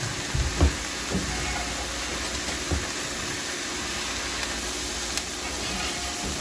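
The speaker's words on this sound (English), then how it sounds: "To this, I'm adding 1 pound of ground beef." A pound of ground beef hits a pan over medium-high heat along with vegetables, giving a steady, broad sizzling hiss with a few soft clatters near the start.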